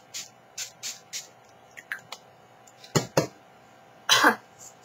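Mehron barrier spray misted onto a face in short pumps, a series of brief sprays followed by a longer burst, close and fairly loud, with a little breathy throat noise between.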